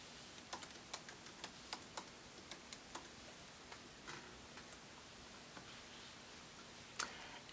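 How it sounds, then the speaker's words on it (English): Password keys are tapped on a computer keyboard at a sign-in screen, a steady run of crisp, close clicks with a short pause midway and a few firmer taps near the end, no voices. "you're going to enter your password."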